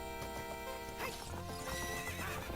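In the video game Zelda: Ocarina of Time, a horse neighs and whinnies over clip-clopping hoofbeats, all quiet and close.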